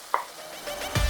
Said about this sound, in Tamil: இதை நல்லா கிளறி விட்டுக்கோங்க.